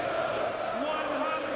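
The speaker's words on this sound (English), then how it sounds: "It's a lively old crowd here this afternoon." Lively afternoon crowd at the PDC World Darts Championship during Gabriel Clemens versus Robert Owen, a steady loud murmur of chatter and calls filling the hall throughout, with a commentator-like voice blending in.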